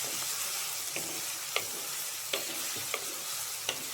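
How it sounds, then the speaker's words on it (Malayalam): Spice powders being stirred with cut okra and drumstick pieces in a pan, soft sizzling under scattered sharp spoon scrapes about once a second, close by with no talking. "ഈ പൊടികളൊന്ന് മൂത്ത് വരുന്നതിനായിട്ട് ഒന്ന് ഇളക്കുക."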